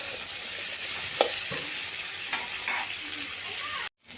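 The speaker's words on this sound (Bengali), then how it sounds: "সবজিটা দিয়ে দিয়েছি, ভালো করে ভেজে নিচ্ছি" Vegetables fry in hot oil for a fish curry, giving a constant close sizzle broken by a few sharp scrapes and knocks of the stirring spoon, then a brief dropout near the end.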